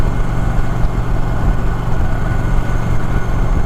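A 2024 Indian Challenger Dark Horse motorcycle engine holding a steady drone around 2700 RPM on the highway, a continuous loud low rumble with constant wind noise and no speech.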